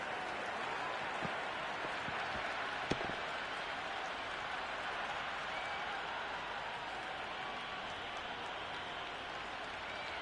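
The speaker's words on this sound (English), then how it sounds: "There's an almost tangible fervour throughout the crowd at the moment." In Cricket 26, a stadium crowd produces a steady, distant roar of cheering and applause, an even wash of noise with a few faint clicks, quiet and unbroken throughout.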